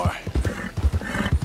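A horse gallops in the video game Red Dead Redemption 2, its hoofbeats thudding in a quick, rhythmic pattern, close and clear.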